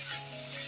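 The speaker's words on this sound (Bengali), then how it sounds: "আদা বাটাটা দিয়ে আমি ভালো করে নেড়ে চেড়ে দিচ্ছি।" Potatoes with turmeric and ginger paste sizzle steadily in a hot pan while being stirred, a short, close, even frying hiss with no talking.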